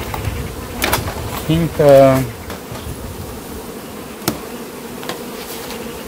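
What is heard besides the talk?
honey bees buzzing at an open beehive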